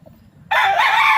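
A rooster crows loudly and close by, the call starting abruptly after a moment of near silence and holding steady to the end.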